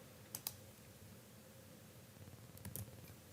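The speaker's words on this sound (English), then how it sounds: "I'm pressing Control E." Keys on a computer keyboard are tapped while working in an Excel spreadsheet: a sharp double click early, then a short cluster of key presses near the end, all over a quiet steady room hum.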